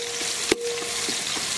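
Half a kilo of finely chopped onions fry in 200 ml of oil in a village kitchen, giving a steady, close, hissing sizzle with one brief sharp knock partway through.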